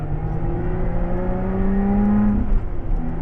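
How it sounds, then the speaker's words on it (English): Lotus Exige Sport 410 pulling hard on a track at Anglesey, a loud, rising engine drone heard from inside the cabin, climbing steadily before a brief dip, with no talking. "So this is a Lotus Exige"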